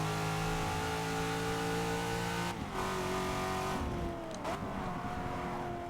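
A Cadillac CTS-V Sedan's engine revs hard on a sweeping lap in Forza Motorsport 6, a loud, steady harmonic roar that drops sharply at each gear change and then climbs again.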